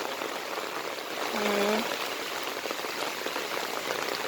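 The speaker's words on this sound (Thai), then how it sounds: "ดูบรรยากาศฝนตกในสวนค่ะ" Steady, dense hiss of rain falling in an avocado orchard, continuous and even throughout, with a brief tonal sound briefly rising above it.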